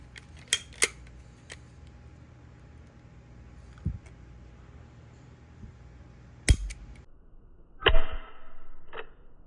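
A SIG P320 pistol being function-checked by hand, with its sear pressed so the firing pin strikes, giving a handful of sharp, isolated metallic snaps and clicks, up close, spaced apart amid quiet handling noise.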